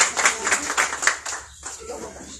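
A congregation at a Portuguese-speaking church thanksgiving service claps rhythmically in unison, then the clapping fades and speech takes over near the end.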